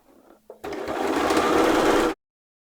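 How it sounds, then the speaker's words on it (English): A sewing machine topstitches a dress seam a quarter inch from the edge, running loud and steady for about a second and a half after a couple of brief mechanical clicks, then stopping abruptly. "before I top stitch 1/4 of an inch away"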